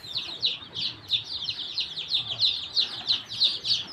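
Tiger chicken chicks, some smaller than others, peep continuously in rapid, high, repeated chirps that rise and fall in a steady rhythm, fairly close, with no talking.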